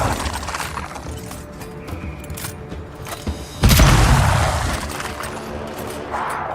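A weapon fired from behind cover in Avowed, with scattered sharp shots followed by one heavy booming blast that slowly fades under ambient game music.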